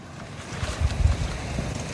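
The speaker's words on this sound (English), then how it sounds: "I hear some churning water." Steady rushing, churning water at a small dam in the Wichita Mountains, with low rumbling turbulence, fairly close and continuous, with some wind buffeting on the microphone.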